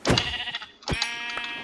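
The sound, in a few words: sheep bleating in Minecraft video game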